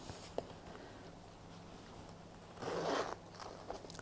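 Zipper on a pocket of a fine glove-leather bag pulled once in a short rasping burst, close and quiet against a faint background hum, with no talking.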